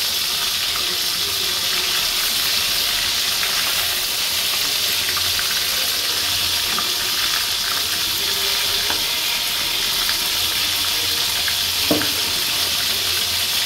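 Prawns frying steadily in hot oil on a simmer, a dense continuous sizzle and crackle filling the space close up, with a faint clink near the end.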